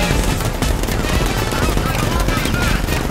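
Heavy gunfire from a tank's gun in Batman: Arkham Knight, a dense, continuous barrage of loud blasts and explosions across the whole stretch with no letup.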